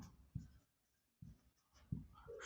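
Pen strokes during a maths lesson sound as short, quiet scratches in two or three separate bursts with silent gaps between them, close and soft, with no talking.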